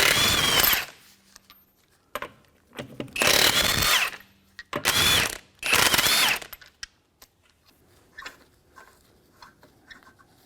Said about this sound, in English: to remove the wheel, we're going to use a 22mm socket on an impact